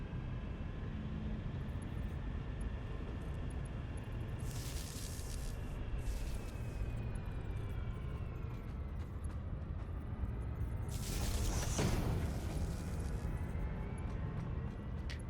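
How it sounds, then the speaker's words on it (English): Coal generators in the video game Satisfactory whir up at a faint level, a steady low mechanical hum with rising and falling tonal sweeps and two bursts of hissing noise, no voices. "I like the sounds of these things kind of whirring up."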